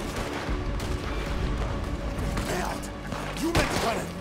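Gunfire and cannon blasts in Red Dead Redemption 2 during a fort defense, scattered shots and booms layered over mechanical clatter, with a player talking over the action.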